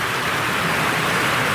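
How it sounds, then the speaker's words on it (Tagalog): Heavy rain falls as a dense, even hiss, loud and continuous, with no talking over it. "Malakas na ulan."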